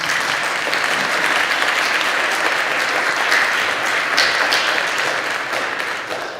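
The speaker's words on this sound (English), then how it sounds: "round of applause for Emily" An audience claps in sustained applause for a performer named Emily at a Friends of Music show, a dense, steady roar of hands at even volume that tapers slightly toward the end.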